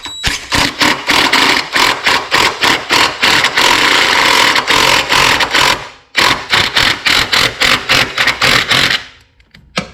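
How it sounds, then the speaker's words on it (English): A pneumatic air tool drives the battery hold-down bolt on a Jeep Patriot in loud, rapid rattling bursts, pulsing in quick repeated hammer strokes, pausing briefly midway, then resuming before stopping near the end. "This time I'm going to use an air tool."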